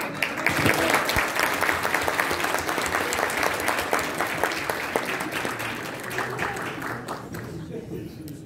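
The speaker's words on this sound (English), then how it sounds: "Can we get one more round of applause for Nabeela, please?" A room full of people applauding a state representative in Chicago, dense clapping that holds steady and then gradually thins out, with voices faintly audible underneath.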